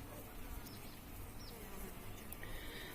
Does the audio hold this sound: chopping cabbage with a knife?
no